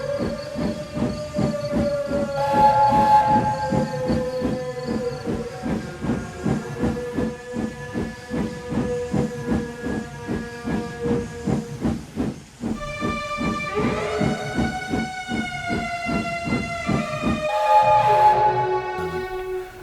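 A steam tank engine from the Thomas children's series puffs and hisses, with two short whistle toots, set against a continuous tuneful music score throughout.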